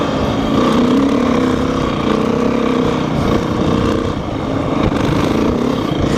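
A 125 dirt bike engine drones steadily and close while riding, its raspy two-stroke buzz holding fairly even with slight rises and dips in revs throughout.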